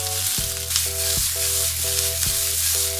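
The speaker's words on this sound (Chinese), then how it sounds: "再下入腌好的虾仁， 反复翻炒" Marinated shrimp stir-fried in a hot wok with oil, minced garlic and chopped shallots, a loud steady sizzle running throughout while a spatula tosses the food in a few regular strokes, heard close with no talking.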